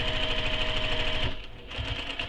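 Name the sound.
sewing machine backstitching at the top of the fabric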